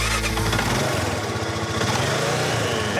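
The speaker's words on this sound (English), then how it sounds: "Now we just got to let him take the four-wheeler for a spin" A four-wheeler ATV engine runs nearby, a loud buzzing motor rumble that shifts in pitch early on and then holds a steady throbbing rhythm, with no talking.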